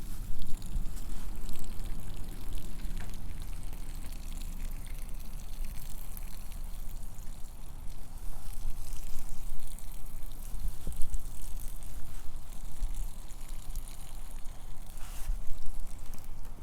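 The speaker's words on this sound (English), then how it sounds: "give it a good watering" Water is poured steadily over a newly planted bare root plum tree and its mulch, with a continuous splashing and trickling close by that lasts the whole time.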